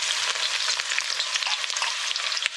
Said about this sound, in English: So we're adding some oil here. So the karahi is hot already.